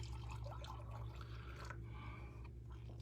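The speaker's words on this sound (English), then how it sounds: "I'm going to pour some out simply because it's a more narrow vessel." Brewed coffee is poured from a pot into a narrow vessel as a soft, quiet trickle and splash over a low steady background hum.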